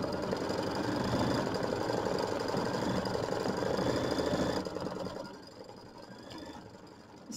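An embroidery machine stitches a decorative edge on a quilt block, giving a steady, loud mechanical hum and rapid needle chatter that carries on for several seconds and then drops to a quieter running level.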